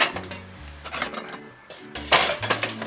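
A metal cooking pot is set onto a portable camping stove outdoors at a car campsite, giving several close clanks and light metallic clinks with short pauses between them.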